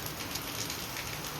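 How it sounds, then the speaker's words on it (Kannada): Heavy rain pours down over a village, a dense, steady hiss that runs unbroken and close, with no voices. "ತುಂಬಾ ಮಳೆ ನಮ್ಮ ಊರಲ್ಲಿ"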